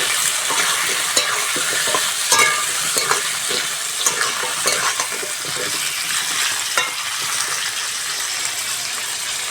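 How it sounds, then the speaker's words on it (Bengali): Potatoes and pointed gourd frying in a pan for a rohu fish curry, a steady broadband sizzle with stirring scrapes and clinks throughout, close and fairly loud, no voices. "আলু আর কাঁকরোল ভালো করে ভেজে নিয়েছি"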